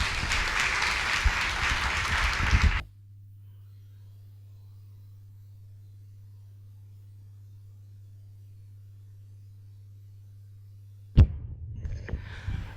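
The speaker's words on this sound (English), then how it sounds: "Let's give him another round of applause" Audience applause at a 2018 Peter Tosh symposium: a dense, fairly loud burst of clapping for about three seconds, then cut off to a steady low hum, with a short noisy return near the end.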